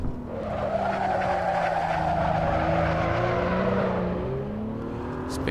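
A race car in the Assetto Corsa racing game spins out, its tires squealing in a long, sliding wail under a steady engine drone that lasts several seconds before easing off near the end.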